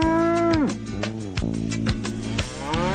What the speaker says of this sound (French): Des vaches broutant plus de 407 variétés d'herbes et arbustes du